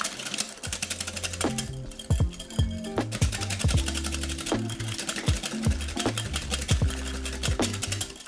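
Whisk beating tofu sauce in a bowl with rapid continuous clattering and scraping, close and fairly loud throughout, without speech.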